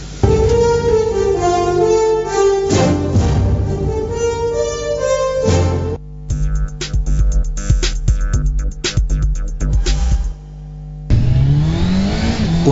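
A car in a TV advert accelerates hard, its engine revving up through rising gears with loud, close roaring, then a gritty passage of squeals and mechanical bursts before another surge.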